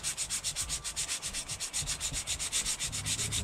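A cork handle being sanded by hand, rapid rhythmic back-and-forth rubbing strokes repeating evenly at close range with no voices.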